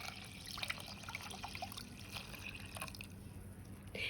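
Tap water being poured into a pan of garlic-flavored pepper rasam mixture, a soft steady trickle and dribble of liquid, faint and close, with no talking.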